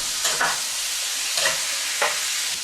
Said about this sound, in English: Give it a little bit more stir.